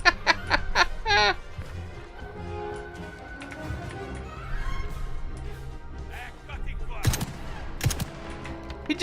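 Rifle rounds striking an enemy in Indiana Jones and the Great Circle, sounding as rapid sharp shots and impacts, some in quick bursts, heard with game noise and a voice talking over it.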